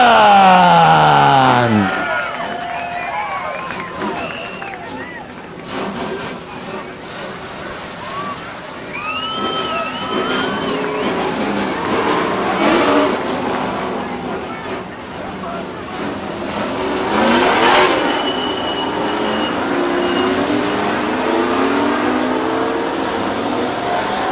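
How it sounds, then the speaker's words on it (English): Race car engines start and rev at Stockton 99 Speedway in 1999, a loud, rumbling mass of motors with rising roars, under a track announcer's voice. "Drivers, start your engine."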